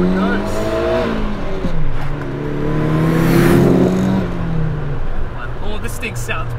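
Nissan Silvia S13 engine fitted with 256 Tomei Pon cams, revving hard as the car accelerates, its pitch climbing, dropping at a shift and climbing again, loud from inside the car.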